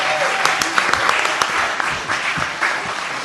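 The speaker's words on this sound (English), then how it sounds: "Give yourselves a big round of applause." An audience at a live comedy show gives a round of applause, with steady, dense clapping and cheering that continues throughout.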